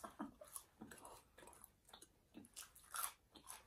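Close, crisp crunching of homemade chunky fries being chewed in quick irregular bites, fairly quiet with small pauses between crunches.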